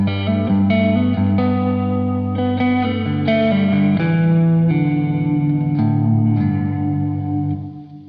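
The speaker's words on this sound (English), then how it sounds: "I really like that reverb sound" Sustained electric guitar chords through a pedalboard big hall reverb ring out with lush, wide reverb and a shimmering chorus wash, decaying into a long fading tail.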